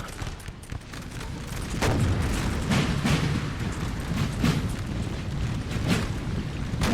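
Dense musket volleys and artillery booms from a Napoleonic battle between French and Prussian lines in Napoleon: Total War, the Battle of Czarnowo, 1806. The firing rolls on continuously for about seven seconds as a loud, crackling wash with no voices.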